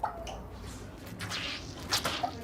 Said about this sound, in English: The bath she once used to bathe her children catches dirty water from the ceiling above.